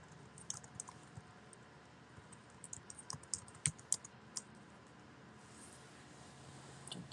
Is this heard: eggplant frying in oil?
no